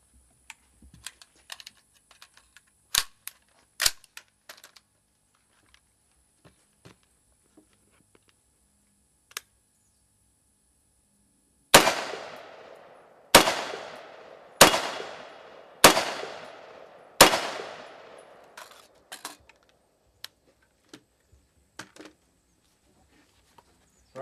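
Five sharp rifle shots from Green Tip 5.56 M885 rounds strike an armor plate, evenly spaced about a second and a half apart, each a loud crack with a short decay, following a stretch of quiet small clicks and taps.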